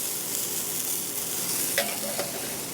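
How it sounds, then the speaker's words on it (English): Steady sizzling of a filet searing in a hot pan, close and continuous, with a couple of faint clinks. "Don't forget about your filet that's in the oven. You hear it searing."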